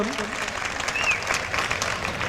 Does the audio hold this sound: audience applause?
yes